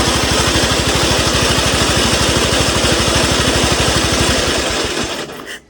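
A homemade racing lawn mower engine runs steadily at a fast, even putter, loud and close, then cuts off and dies away at the end with no one talking.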